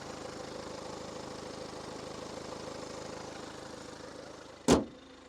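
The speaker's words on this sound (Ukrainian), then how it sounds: "Саме основне моторчик працює чітко, рівненько, без запотівань, підтікань." A Kia Sorento 2.2 diesel engine idles steadily with a low, even rumble, then a brief sharp knock or thump near the end.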